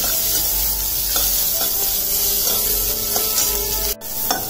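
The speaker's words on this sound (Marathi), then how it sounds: "आपण हे मोठ्या गॅसवर छान परतून घेतला कांदा" Onion sautéing on high flame for a spicy country-style chicken gravy, a loud continuous sizzle with regular scraping strokes of a spatula stirring the pan, close up, with no talking.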